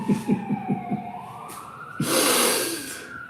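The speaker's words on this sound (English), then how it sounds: "Here we go, more sirens" Emergency vehicle sirens wail along a street, starting with a rapid pulsing yelp and then shifting into a long rising tone as a louder blast of noise cuts in near the end, fairly close and with no speech.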